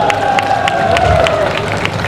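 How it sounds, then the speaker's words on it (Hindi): An audience at a farmers' conference in Bareilly claps during a speech, with rhythmic hand claps over crowd murmur and a steady tonal hum, close and fairly loud throughout. "देखिए फिल्मों में काम करने वाले लोग कितनी मजबूत से ताली बजा रहे हैं।"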